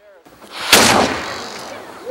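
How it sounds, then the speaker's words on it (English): A historic cannon fires at a fort, one loud sharp boom with a long rumbling decay that fades slowly across the rest of the moment. "We also saw a cannon fire."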